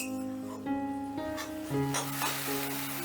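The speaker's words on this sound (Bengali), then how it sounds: "এবারে গ্যাসের আঁচটা মিডিয়ামে রেখে আমি এই মশলাটাকে ভালো করে কষিয়ে নেবো" Spice paste of ginger and garlic frying in a pan on medium gas for a Bengali katla kalia fish curry: a steady, fairly loud sizzle with faint stirring scrapes, close and continuous.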